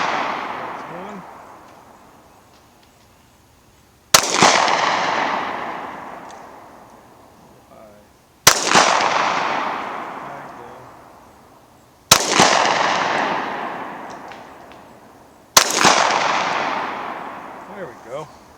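A Glock 21 .45 pistol firing four loud single shots spaced several seconds apart, each sharp crack followed by a long echoing decay outdoors.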